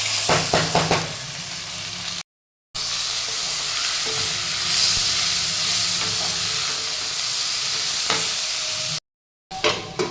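Tomatoes tossed into a pan of browned potatoes, onion and garlic set off a steady loud sizzle and hiss, with a few clattering knocks at the start and brief cutouts in the sound.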